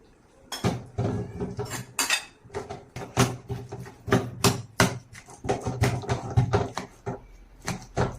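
Boiled cassava mashed in a metal pot, a series of close, irregular clinks and knocks of a utensil striking the pot, heard alone.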